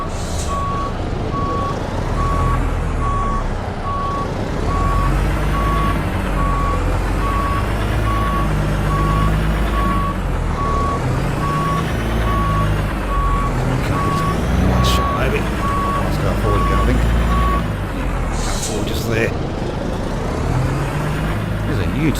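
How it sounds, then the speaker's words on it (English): Steady repeating reversing beeper on a truck in American Truck Simulator, pulsing evenly over a loud diesel engine rumble, with a voice talking over it and a brief hiss near the end. "Let's chuck it in reverse."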